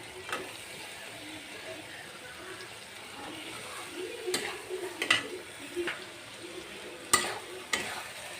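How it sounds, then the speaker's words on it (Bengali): Drumsticks (sajna) being stirred and fried in mustard paste make a soft, low sizzle with intermittent spoon scrapes and clatters against the pan, growing busier toward the end. "এখন এই যে সরিষার সাথে নেড়ে চেড়ে কষিয়ে নিব"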